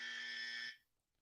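A single harsh electronic buzzer sounds once, loud and steady for under a second, then stops abruptly into silence.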